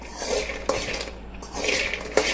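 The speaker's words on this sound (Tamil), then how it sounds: "அடுத்து 100 கிராம் பாதாம் உள்ளே சேர்த்து இதை நல்லா வறுத்துக்கிடுவோம்." Almonds are roasted and stirred in a pan for a homemade millet health mix. Sharp scraping and clinking strokes rattle against the metal at close range, with a couple of louder knocks and no talking.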